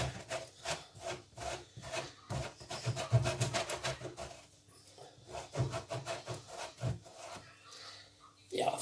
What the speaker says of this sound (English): let's grate the hard cheese up